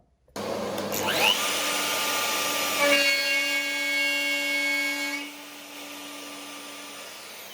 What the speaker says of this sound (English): I'm just doing my V-groove at the moment